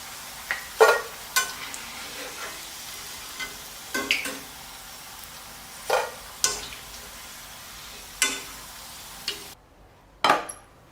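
Banana chip slices deep frying in hot oil, with a quiet, steady sizzle broken every second or two by short scraping stirs of a ladle through the pan. No one speaks.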